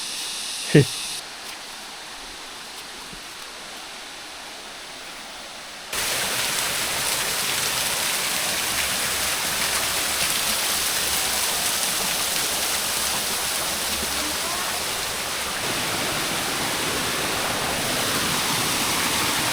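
Dardarumaka Falls waterfall in a forest, a steady loud rushing wash that begins abruptly after a few quieter seconds and then continues unbroken.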